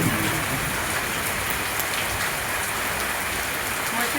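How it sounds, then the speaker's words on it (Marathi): Heavy monsoon rain pours steadily onto an open courtyard, a dense, unbroken hiss that stays loud and even throughout with no voices. "पहा माझ्या समोर किती पाऊस येत आहे"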